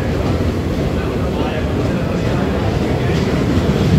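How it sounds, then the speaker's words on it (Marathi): The Koyna Kolhapur Express rolls into a station with a loud, steady rumble and hiss of wheels and carriages, a broad continuous roar with no speech heard. "फायनली ट्रेन आलेली आहे, कोयना कोल्हापूर एक्सप्रेस"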